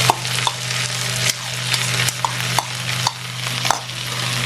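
Carrots and macaroni sautéing in a pan for potato croquette filling, a loud steady hiss of frying with regular spatula scrapes and knocks roughly every half second to second.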